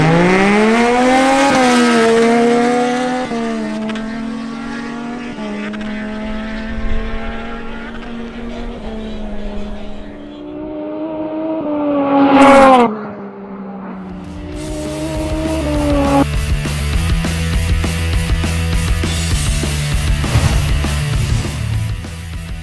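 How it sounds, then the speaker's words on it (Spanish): Motorcycles, a Kawasaki Z900 among them, drag racing at an OM Motor Racing event in Bucaramanga: loud engines rise in pitch through the gears, a sharp burst near the middle, then heavy revving and a steady roar close by. "La victoria tras un ajustado duelo se la lleva la Kawasaki Z900 de Ricardo Ramírez"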